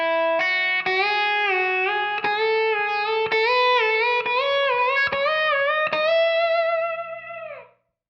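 Slide guitar through effects with distortion plays a quick scalar lick, gliding up two or three notes, back down one and up again, sustained sliding pitches over a steady low drone, loud and alone, fading out at the end.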